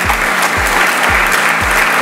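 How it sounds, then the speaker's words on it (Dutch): Loud applause at a company client day as Jan Willem is called forward, with a thumping bass beat pulsing about twice a second underneath the clapping. "Geef ons een applaus."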